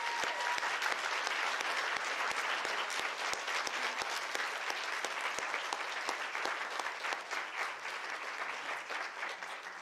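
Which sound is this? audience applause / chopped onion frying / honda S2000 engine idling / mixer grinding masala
audience applause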